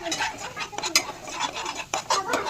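Spoon or spatula stirring and mixing pav bhaji paste in a pan in a home kitchen, soft scraping and clinking strokes coming in quick irregular bursts, close and moderately loud, with no talking.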